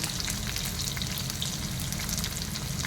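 Cumin and mustard seeds fry in hot oil with a dense, continuous crackle and sizzle, brisk little pops spread evenly throughout.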